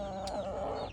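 A chicken clucks in a backyard coop, one short, throaty burst of close clucking with a brief higher squawk, heard alone without talking.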